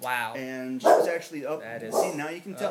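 A dog that was once a pit fighter barks and yips in short bursts in the background while a person talks over it throughout.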